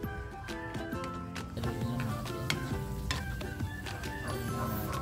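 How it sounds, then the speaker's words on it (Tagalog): Bicol Express ingredients are stirred into simmering coconut milk, with a continuous sizzle and bubbling broken up by repeated clinks and scrapes of a spoon against the pan, close by and moderately loud. "halu-haluin lang natin ito mga boss. Para kumapit yung sangkap na nilagay natin sa ating gata."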